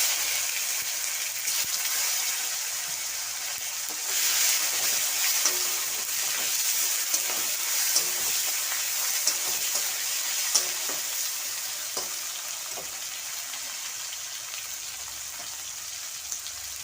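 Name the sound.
tomatoes sizzling while frying with cumin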